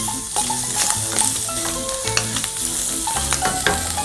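Spetsofai ingredients stir-fry in a pan of Greek home cooking, a loud, close sizzle broken by repeated clattering stirs and scrapes of the utensil against the pan.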